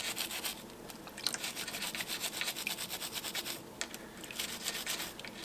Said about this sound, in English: I'm kind of burnishing that in, getting rid of that haze